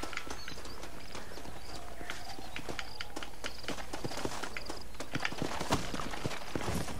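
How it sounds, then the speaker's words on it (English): Horse hooves clip-clop in a video game, a steady run of sharp, fairly close hoof strikes over a constant low background hum, with no talking. "This is my horse."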